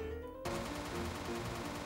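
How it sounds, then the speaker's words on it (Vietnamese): A new rapid-fire gun shoots in a Minecraft zombie-apocalypse game, firing a quick, even stream of shots that starts abruptly and continues faintly to the end. "Súng mới bắn khá là nhanh á."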